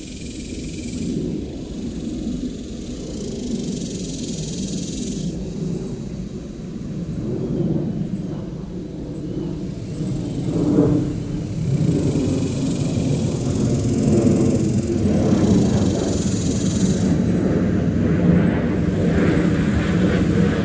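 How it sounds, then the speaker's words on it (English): An airplane rumbles overhead, recorded with an ORTF3D microphone, its engine roar swelling steadily louder as it passes, a low continuous drone over the whole stretch. "And we have an airplane flyover coming up."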